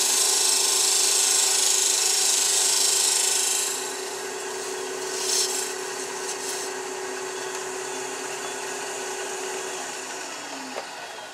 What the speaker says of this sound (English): So I'm going to put that little relief in there using it like a scraper.